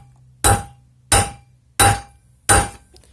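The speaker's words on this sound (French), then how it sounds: "tu prends ta douille, tu prends la masse et tu tapes bien dessus plusieurs fois" A sledgehammer strikes a steel socket four times at an even pace, about one blow every 0.7 seconds, each hit a sharp, loud metallic bang, freeing threadlocker while a scooter tyre is being removed, with no talk.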